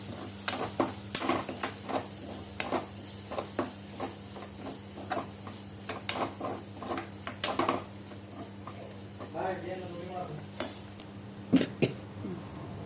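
Prawn roast stirred in a pan after half a spoon of turmeric powder goes in, heard as soft intermittent scraping and tapping clicks over a low steady hum, fairly quiet and close.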